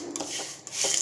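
A spoon stirs a roasted gram (porikadalai) mixture for sweet balls, giving soft, dry scraping and rubbing strokes that repeat a few times, close and without talk.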